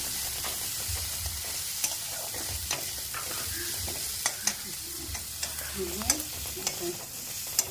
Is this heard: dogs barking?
no